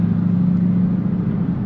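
A Chevrolet Corvette C8 cruises along in the early morning, giving a steady, deep engine rumble heard from inside the car with no talking.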